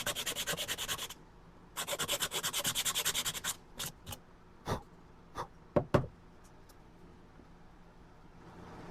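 Scraping and sanding across the top of a small wooden tea light campfire, with two long bursts of steady rubbing followed by several short, separate knocks and scuffs, close by with no talking.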